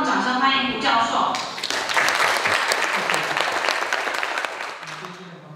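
Audience applause welcoming Professor Hu Junjie of National Penghu University of Science and Technology to the podium at a Penghu County integrity and ocean sustainability forum, a dense, steady clapping that fills the hall and fades slightly near the end.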